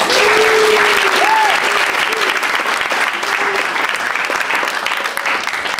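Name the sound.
audience applause after children's play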